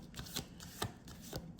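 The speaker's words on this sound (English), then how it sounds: "I'm going to continue shuffling the card." Tarot cards being shuffled by hand, a quick run of soft riffling slaps in uneven rhythm, close and quiet with no talking.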